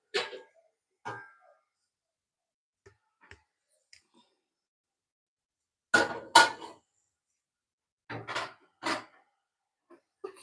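A metal pot lid being handled in a home kitchen while cooking jollof rice: a few sharp clinks and taps in small clusters, separated by quiet gaps.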